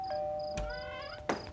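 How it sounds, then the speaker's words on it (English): A doorbell chimes at a house on Halloween night, a clear ding-dong tone ringing out twice in quick succession, alone and close. "there was still one more bell to ring"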